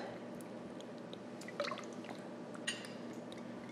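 Avocado oil pours into a mixing bowl in the kitchen with soft, close drips and liquid splashes over a faint steady background.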